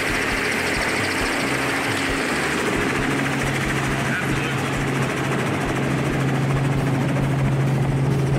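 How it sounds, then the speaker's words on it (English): Steady droning helicopter engine with rotor hum, loud and continuous throughout, with faint voices murmuring underneath, during a hog hunt on a ranch. "to land the helicopter"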